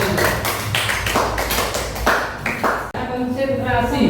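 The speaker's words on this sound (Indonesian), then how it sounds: "Tepuk tangan untuk kelompok 3." A classroom group gives applause, a burst of close, loud clapping with irregular sharp slaps that ends abruptly partway through, followed by a brief stretch of other indoor sound.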